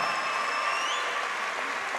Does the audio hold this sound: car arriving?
no